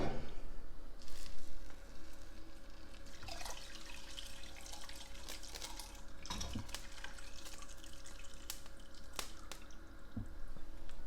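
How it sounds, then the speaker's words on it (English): Liquid being strained out of cooking vegetables, a steady watery pour and trickle with occasional drips and squishy clinks, close and moderately loud throughout. "So what I'm going to do is strain out the liquid I just added."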